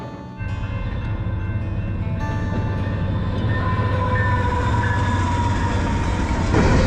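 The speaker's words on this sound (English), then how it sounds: "We're stuck on this side of the train." A long freight or passenger train rolls past close by on the Canadian prairie in Manitoba or Saskatchewan, a steady loud rumble of wheels and cars building slightly toward the end, with no talking.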